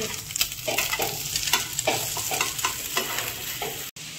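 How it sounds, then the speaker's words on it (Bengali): Maggi noodles with egg being stirred in a pan, a steady close sizzle under repeated scraping strokes of a spoon, with no voices. "আচ্ছা ম্যাগি রান্না হচ্ছে।"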